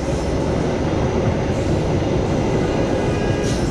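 An Argo Cirebon passenger train, number 1393, thunders past very close with a loud continuous roar and rumble of wheels on rails.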